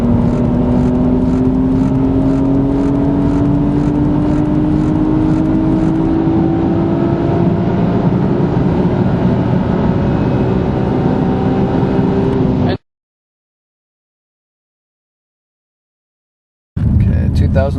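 Car engine with an aftermarket turbocharger or supercharger kit climbing steadily in pitch under full throttle toward high RPM, loud and close for about twelve seconds, then cut to silence before resuming briefly.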